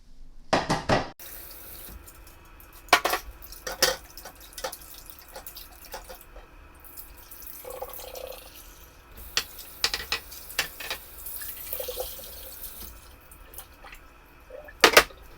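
Red peas are washed under a running sink tap for Jamaican stew peas, with water splashing and flowing in bursts, clattering as the peas are handled, and scattered sharp knocks against the pot or bowl.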